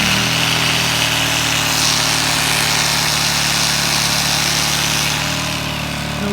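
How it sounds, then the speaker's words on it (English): A Briggs & Stratton P2200 generator runs steadily under the load of a 1000-watt pneumatic drill, giving a loud, continuous engine drone with a buzzing mechanical whine that holds nearly constant throughout. "Generator is powering this 1000-watt pneumatic drill."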